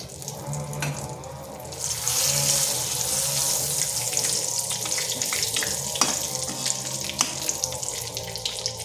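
Bay leaf, cinnamon, clove and cardamom tempering in hot oil make a steady close hiss and sizzle that swells after about two seconds and then holds, broken by a few small pops.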